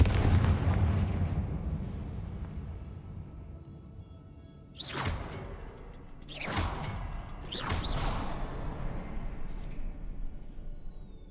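Fire spell blasts from the Hogwarts Legacy video game, about three whooshing bursts that land a second or so apart over a fading rumble.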